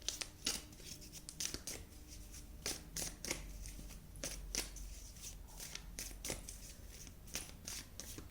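Tarot cards shuffled by hand, producing a quiet, steady series of crisp riffling and flicking bursts close up, repeating irregularly throughout with no speech.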